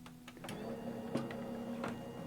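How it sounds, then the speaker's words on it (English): Die cut machine running with a plate over a card background for an art journal, a steady low mechanical whir with a faint hum and a few sharp clicks and ticks, close and fairly quiet with no talking. "put it over it, and run it through a die cut machine"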